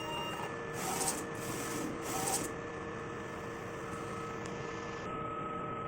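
A DTF printer runs a test print after a head cleaning, with a steady mechanical whir and two rhythmic carriage sweeps early on, then a continuous hum that settles, heard up close.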